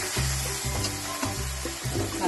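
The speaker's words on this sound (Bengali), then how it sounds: "নুন, হলুদ, কাশ্মীরি লঙ্কার গুঁড়ো আর কাঁচা লঙ্কা দিয়ে এবার মশলাটা কষিয়ে নেব" Spice paste of cumin, chilli and ginger paste with salt, turmeric, Kashmiri chilli powder and green chillies sizzling and frying in a pan, steady close hiss with repeated stirring scrapes at a regular rhythm.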